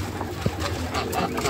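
Pigeons or doves cooing softly at a feeding spot among poultry, a few brief low coos over a steady background murmur.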